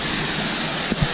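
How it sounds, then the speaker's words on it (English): Russell Falls, a waterfall in Tasmania, rushes as a steady, even broadband roar with a couple of brief low thumps near the end. "This, my friends, is called the Russell Falls."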